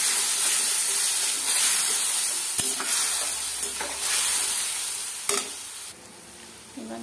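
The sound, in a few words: stirring fried tomato with ginger garlic paste in pan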